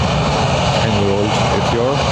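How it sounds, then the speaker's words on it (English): An ATR 600 turboprop at Lanzarote Airport drones with a loud, close engine roar and a steady propeller hum, while a voice talks over it. "This ATR 600"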